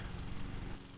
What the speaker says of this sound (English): I don't know if you can hear the lawnmower in the background.